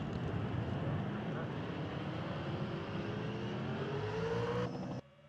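Race car engines at a FARCA event at Daytona drone steadily and loudly in a dense roar, pitch sweeping upward as they rev, with crowd noise underneath, before cutting off abruptly near the end.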